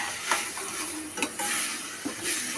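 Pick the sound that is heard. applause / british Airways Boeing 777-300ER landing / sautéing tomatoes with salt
sautéing tomatoes with salt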